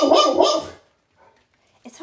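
A puppy gives two quick, high yapping barks up close, then falls silent before a faint sound at the end.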